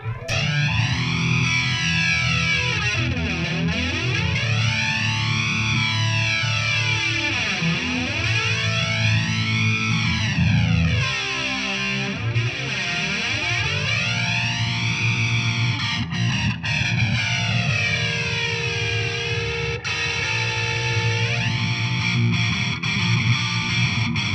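Heavily distorted electric guitar through an MXR EVH flanger, its jet-like whoosh rising and falling in slow repeating waves, loud and continuous.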